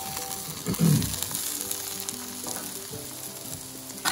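Pre-cooked sausages sizzling on a Blackstone griddle during breakfast cooking, a steady close frying crackle with a brief louder sizzle burst near the start and faint clinks of stirring.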